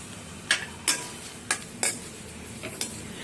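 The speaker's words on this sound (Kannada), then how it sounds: "ಇದನ್ನು ಅಷ್ಟೇ ಚೆನ್ನಾಗಿ ಫ್ರೈ ಮಾಡ್ಕೋಬೇಕು." Drumstick (moringa) leaves stirred in a frying pan, a spatula scraping and tapping in about six sharp strokes over a faint, steady background, with no voices.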